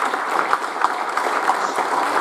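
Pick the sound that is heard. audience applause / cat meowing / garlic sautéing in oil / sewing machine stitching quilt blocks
audience applause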